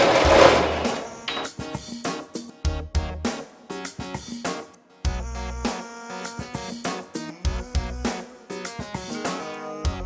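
A sewing machine stitches fabric for a bag-holder piece in bursts of rapid, mechanical whirring and clattering, stopping and starting several times, loud and close, with no voice.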